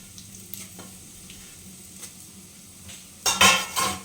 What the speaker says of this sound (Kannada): ಚೆನ್ನಾಗಿ 1 ನಿಮಿಷ ಫ್ರೈ ಆಗಬೇಕು.